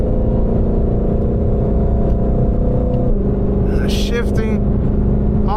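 A Ford Shelby GT500 muscle car engine revs hard while accelerating, a loud, close, continuous roar that drops pitch at a gear shift partway through, with a brief voice cutting in near the end.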